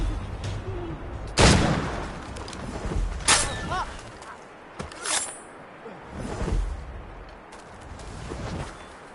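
Gunfire cracks out in Jak and Daxter, with four or five sharp shots and bursts spaced irregularly over several seconds against quieter game ambience and faint background voice sounds.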